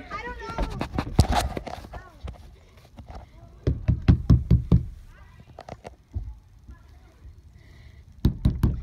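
Knuckles knock on a house door in several rapid bursts of sharp raps separated by pauses, loud and close, with people talking around the knocking.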